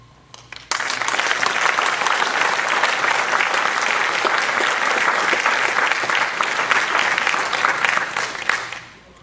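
A debate audience breaks into applause after a Nebraska Senate candidate's answer. The clapping starts abruptly, stays dense and loud for several seconds, then fades out.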